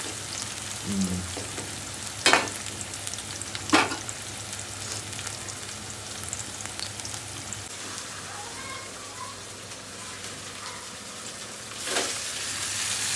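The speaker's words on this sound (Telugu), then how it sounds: "ఆనియన్ అయితే వేసేస్తుంది. ఫ్రై అయిపోతుంది." Onions frying in a pan for a chicken leg piece masala, giving a continuous crackling sizzle with a few sharp stirring clatters early on and near the end, no speech.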